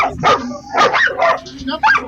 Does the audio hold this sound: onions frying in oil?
no